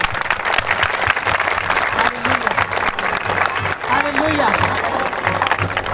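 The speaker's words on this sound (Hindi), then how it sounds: "ताली बजाएंगे जोर से परमेश्वर के लिए।" Congregation at a live Christian prayer meeting clapping loudly and steadily in praise, a thick, continuous wash of applause with a voice calling out over it.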